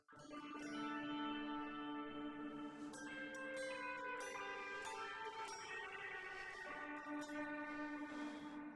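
Sustained tonal guitar notes through a Boss GX-100 ring out and blur together in a long, washy hall reverb, the tail hanging on steadily throughout.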